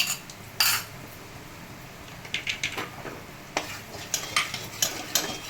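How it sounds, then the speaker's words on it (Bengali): Asafoetida dropped into hot oil gives a light sizzle, followed by repeated clinks and scrapes of a metal spoon stirring in the pan, close by with short sharp taps. "এবার এই তেলের মধ্যে আমি কিছুটা হিং ফোড়ন দিয়ে দিলাম"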